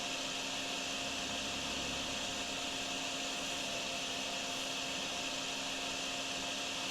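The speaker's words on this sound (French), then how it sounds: "on va passer le petit aspirateur juste ici" In the Drain Sim video game, a vacuum cleaner sucks up water with a continuous, steady whine and broadband hiss, holding constant level throughout without any pauses or talk.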